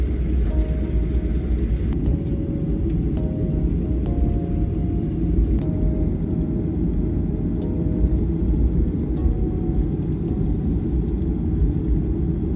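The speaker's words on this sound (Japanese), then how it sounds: "成田国際空港に着陸しました。" A steady, loud low rumble and whir of engines fills the cabin of a Spring Japan airplane just after landing at Narita International Airport, with faint tonal chimes recurring over the drone.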